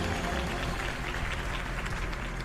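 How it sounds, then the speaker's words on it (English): A crowd applauds after a mayoral campaign speech in the Batman Telltale Series video game, dense continuous clapping at a steady level with a faint voice mixed in. "could have heard that applause"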